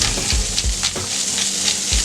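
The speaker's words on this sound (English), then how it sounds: "while we got the burgers cooking on one side here" Beef burgers sizzle loudly on a Steelmadeusa grill, a dense close crackle with bursts of popping fat and faint scraping taps.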